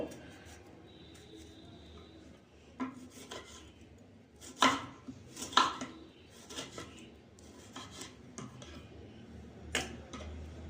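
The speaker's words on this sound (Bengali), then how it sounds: "টমেটোটা কেটে নিই" A knife chopping a tomato on a board in a home kitchen, a quiet, uneven series of sharp taps that cluster and grow louder midway, with faint background noise.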